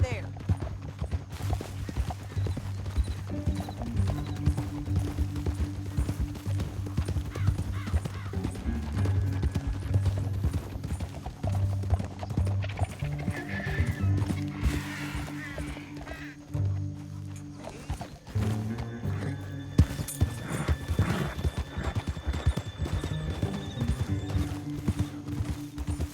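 Horse hooves clip-clop steadily through the whole stretch, with an occasional whinny and faint voices in the background.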